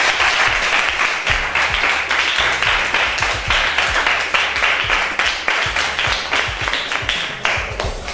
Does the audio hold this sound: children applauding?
yes